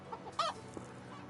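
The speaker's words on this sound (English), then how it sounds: "Lady tending to the chickens" Chickens clucking in a farm coop in the video game Medieval Dynasty, a few faint short clucks and one brief louder squawk over quiet background ambience.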